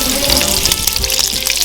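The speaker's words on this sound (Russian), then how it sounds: "Последний панкейк удаляю и начинаю жарить" Pancakes frying in melted clarified butter, a loud, close, continuous sizzle and crackle with no voices.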